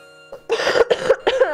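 A person coughs three times close to the microphone in quick, harsh bursts, alone, with a faint musical tone sounding softly beneath.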